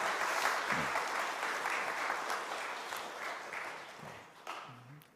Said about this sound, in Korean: 박수로 인사하겠습니다